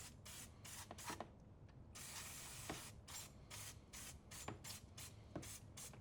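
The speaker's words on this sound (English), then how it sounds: "just give it a good spray" Paslode degreaser sprays onto an Impulse CoilMaster IM50S nailer in a rapid run of short hissing bursts, with one longer continuous spray in the middle, close by and soft.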